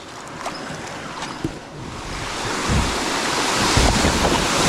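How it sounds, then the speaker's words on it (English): A kayak runs a small river rapid on the Devils River, with steady rushing water and wind noise building slightly louder over several seconds and no voices. "It's these sporty rapids, which we much prefer versus the long pools."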